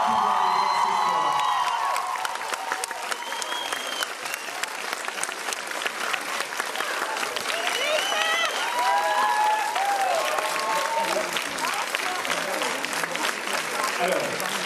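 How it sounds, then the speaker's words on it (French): A film premiere audience in a Paris cinema applauds the cast with sustained, loud clapping, scattered cheers and whoops, and voices calling out over the ovation. "Et là, vous pouvez vraiment les applaudir"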